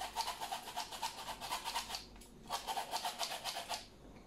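A flour mixture for a ghee cake is sifted through a sieve in quick rhythmic shakes and scrapes, two close, soft bursts of brisk rustling separated by a brief pause.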